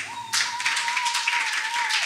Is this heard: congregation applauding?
yes